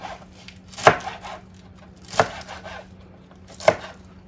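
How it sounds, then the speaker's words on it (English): Three sharp knife chops through romaine lettuce on a cutting board, spaced about a second and a half apart, each a crisp thud against a quiet kitchen background with a faint low hum. "I just grab a few of them and just cut them up"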